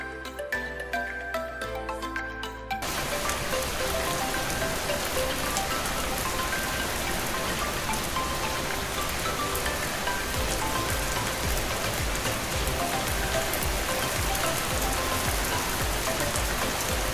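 Rain falls steadily in Juneau, Alaska, a dense, even patter that starts after a brief quieter opening and continues unbroken to the end.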